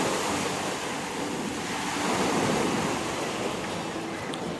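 Sea waves washing onto Ikra beach in Odesa, a continuous rushing surf roar mixed with gusts of wind buffeting the microphone, steady and fairly loud with no voices.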